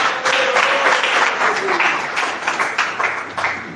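Congregation clapping during an evangelical church campaign service: a steady, dense wash of hand claps fills the whole stretch at close range, with faint voices or tones woven underneath.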